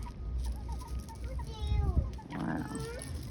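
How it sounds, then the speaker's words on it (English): Chickens clucking at Colonial Williamsburg, a few short near clucks and calls over outdoor background noise, with a faint voice mixed in. "Let's go look at the chickens real quick"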